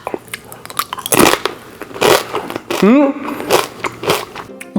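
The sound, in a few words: biting into crunchy shrimp peanut nurungji rice crust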